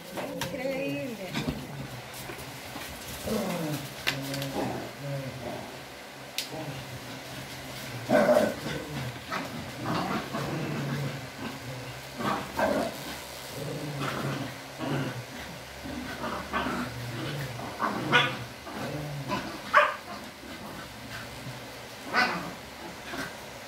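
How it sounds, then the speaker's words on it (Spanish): Two small female dogs play together in a grooming salon, with repeated yips, barks and whimpers coming in short bursts over a steady background hum, at moderate distance. "Increíble que esas perritas como juegan todo el día."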